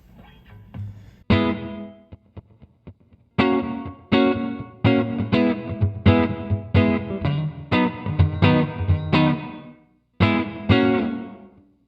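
Guitar runs through an Alabs Cetus reverb pedal on a short reverb setting. Loud, close strummed chords start and stop abruptly, each with a brief tail, and there are a few quieter plucks at the start.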